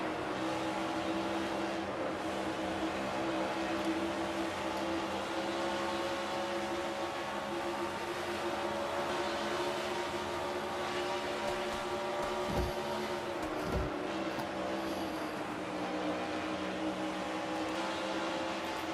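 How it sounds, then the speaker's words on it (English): Stock car engine heard from the onboard view in a sim racing game, a steady high droning whine held at near-constant pitch, loud and continuous with brief dips in the low end. "And there's the inside view from McIntyre's machine."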